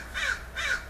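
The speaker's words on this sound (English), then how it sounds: "as a crow, you know, yelling over there" A crow gives two harsh caws in quick succession, moderately loud and slightly distant, against a low background hum with no voices.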